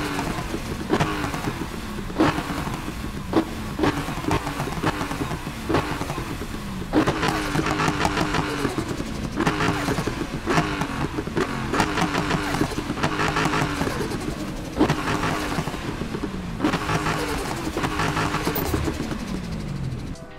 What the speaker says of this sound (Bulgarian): нека чуем как звучи този Dodge Challenger